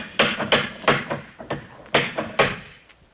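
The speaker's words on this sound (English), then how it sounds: "Anyone in the neighborhood would have heard that knock." Hard, heavy knocking on a door staged as a radio drama sound effect, about eight loud, close thumping raps in irregular clusters with short pauses between, no voices over them.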